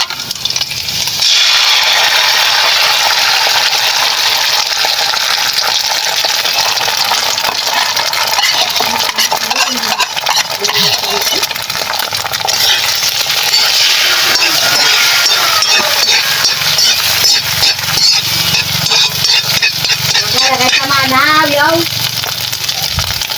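An egg sizzles and spits loudly in a hot frying pan, a steady crackling hiss that runs the whole time, with occasional clinks of a utensil against the pan close by.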